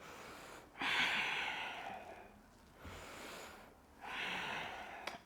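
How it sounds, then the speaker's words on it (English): Deep, big breaths during a yoga balance exercise: two or three long, airy inhale and exhale cycles, close and steady, with no talk over them. "Make the breath big."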